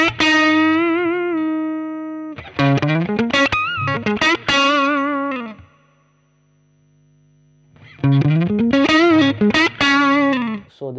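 An electric guitar through a Peavey Classic 20 amp with the bass turned all the way up plays a sustained chord, then two bursts of quick strummed and picked notes separated by a brief near-silent pause.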